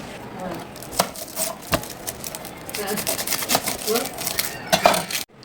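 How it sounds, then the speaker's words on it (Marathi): A knife cuts the top and bottom off an onion on a cutting board. Sharp, separate chopping clicks land at uneven intervals, fairly close, over a background of talk and light room noise. "सो कांदा कसा कापायचा त्यासाठी मी तुम्हाला सांगणार आहे की कांद्याचा हा वरचा भाग आणि खालचा भाग आधी कापून घ्यायचा आहे"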